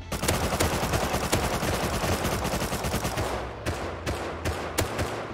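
Rapid automatic gunfire from the survival video game Rust, dense sustained bursts with loud repeated shots, then a few separate cracks toward the end, no talking.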